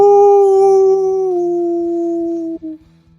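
A person imitates a wolf howl with a voice: one long, loud sustained tone that slowly falls in pitch for about two and a half seconds, then breaks off with a brief wavering tail.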